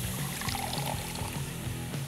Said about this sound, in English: Let's pour liquid nitrogen in it!